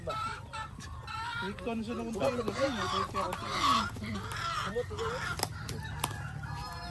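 Farm chickens cluck and squawk nearby in a repeated, excited chorus, close and fairly loud, with a person speaking briefly over them.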